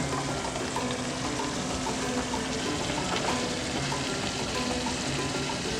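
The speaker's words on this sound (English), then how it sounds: "Now what we're gonna do is we're gonna add our potatoes." Potatoes hissing and bubbling steadily in a simmering pot, a dense, constant sizzle held at an even, fairly close level throughout with a faint low hum underneath and no voices.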